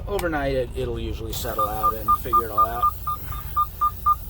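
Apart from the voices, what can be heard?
truck seatbelt warning beeping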